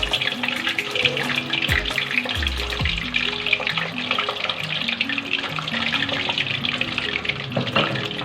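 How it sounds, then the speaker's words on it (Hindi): Boiled eggs frying in hot oil in a home kitchen, a steady crackling sizzle throughout with bubbling and occasional clinks of a utensil against the pan. "ऑयल हमारा गर्म हो चुका है। अब इसमें हम अंडे ऐड करेंगे।"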